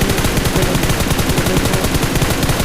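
Rapid automatic gunfire from a scoped weapon in a first-person shooter video game, a loud continuous burst of evenly spaced shots with no talking over it.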